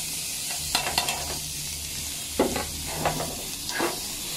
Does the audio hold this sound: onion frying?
yes